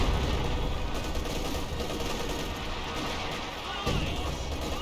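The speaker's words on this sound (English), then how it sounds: "Sexton artillery." Distant Sexton artillery fire in Company of Heroes, a dense continuous rumble of booming blasts and crashes with a sharper burst near the end, mixed under constant battle noise.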